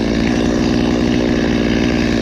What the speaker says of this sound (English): Be careful shoving your chainsaw in like this.